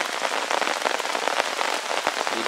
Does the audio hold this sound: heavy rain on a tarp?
yes